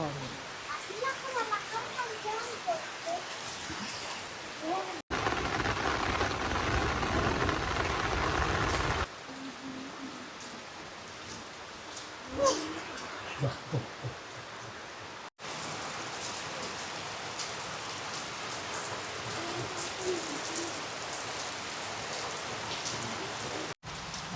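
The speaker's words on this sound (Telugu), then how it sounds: "చాలాసేపటి నుంచి నిలబడి కురిసేస్తుందండి వర్షం" Heavy rain pours steadily in a forest setting, a dense continuous hiss close by with brief shifts in intensity, while people talk over it at times.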